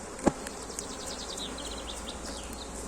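Anatolian honey bees drone softly near a beekeeping and honey-harvest session, giving a faint continuous hum with a few brief higher buzzes passing close and one sharp knock near the start.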